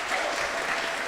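An audience at a Bhagavatam class claps warmly, producing a dense, steady burst of applause throughout the short moment.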